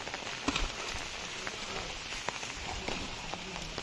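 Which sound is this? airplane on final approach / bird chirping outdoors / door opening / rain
rain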